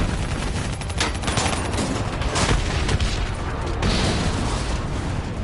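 Missiles strike and destroy an APC in Black Ops 3, with loud, dense explosions and gunfire as a continuous barrage of blasts and rumble throughout.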